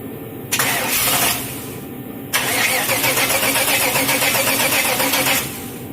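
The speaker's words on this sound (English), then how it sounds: "we got enough of it hooked up to where it should fire long enough to see that it's going to run" An LT1 V8 swapped into a square body truck cranks briefly, pauses, then cranks again and fires, settling into a loud, close, rumbling idle before cutting off.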